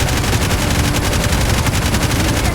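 Rapid automatic gunfire from a Roblox Jailbreak raid, loud and continuous, dense bursts of shots filling the whole stretch with no break.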